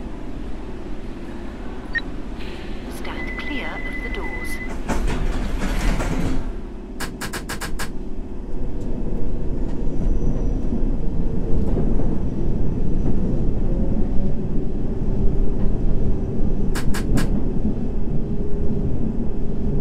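A London Underground Circle Line C Stock train in World of Subways 3 rumbles along with a deep, steady roar that swells louder, accompanied by occasional clicks and a brief high-pitched tone.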